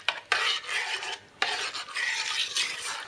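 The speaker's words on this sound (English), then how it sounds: "Now we can stir a little bit so that the yeast dissolves better." Yeast mixture stirred in a bowl for Swedish cinnamon buns, a close scraping, rasping swish in several bursts with short pauses between, no voices.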